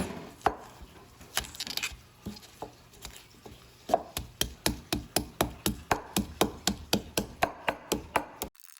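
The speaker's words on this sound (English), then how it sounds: "I'm going to just crush my garlic, just like this." Garlic being crushed, likely pounded in a mortar, with irregular knocks at first that settle into a steady run of sharp rhythmic thuds, close and fairly loud, then stop abruptly.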